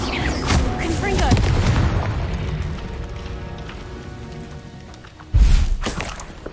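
In Hogwarts Legacy, a Confringo spell fires with a rumbling, crackling blast that slowly fades, then a second sharp, loud boom lands near the end.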